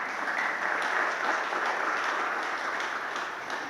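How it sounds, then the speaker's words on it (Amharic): Steady, dense applause from a church congregation of the Kazanchis Urael fellowship in the Addis Ababa Synod, sustained at an even level from start to finish without voices on top. "አጨብጭቡ።"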